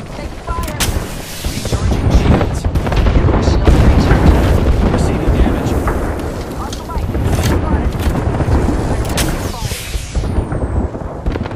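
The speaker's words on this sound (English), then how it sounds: "Airstrike danger close" Airstrike barrage in the Apex Legends video game, a loud sustained stream of heavy booming explosions and rumbling impacts over many seconds, with a few sharper blasts and whooshes near the end and game voice lines underneath.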